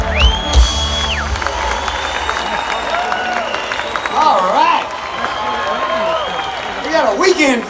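A live concert audience cheers, whoops and applauds at an outdoor show, a loud, sustained crowd roar with scattered shouts and whistles while someone talks over it.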